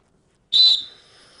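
A referee blows a single sharp, loud whistle blast during a strength competition on a film studio lot; the blast is near and clear and rings briefly after a silent start.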